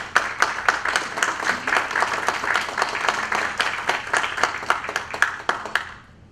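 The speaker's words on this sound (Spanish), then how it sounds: "La recibimos con un fuerte aplauso." An audience at an international notarial law conference session on disability breaks into dense, sustained applause that fills the room, then fades out at the end.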